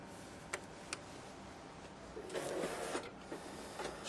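A Xerox WorkCentre 7600 copier runs a copy on 11x17 paper, making a quiet mechanical whir with a couple of soft clicks and then a short burst of feed noise.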